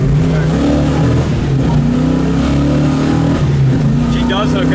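A 1970 Chevelle SS accelerating hard, its V8 rising through loud rhythmic revving, easing briefly and climbing again, close by, with a voice speaking over it.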